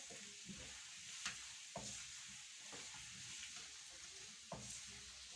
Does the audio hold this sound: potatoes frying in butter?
yes